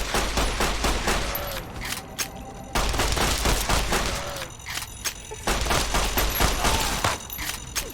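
Gunfire in Fallout: A Tale of Two Wastelands, with bursts of rapid shots and thudding impacts that come in clusters separated by brief lulls, loud and close with no speech.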